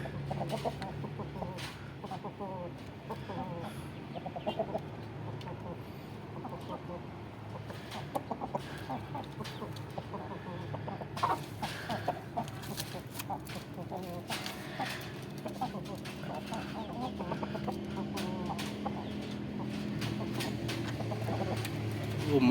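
Newly bought rooster and hen squabbling inside a cage, with repeated clucks and agitated squawks over constant background noise and occasional faint voices.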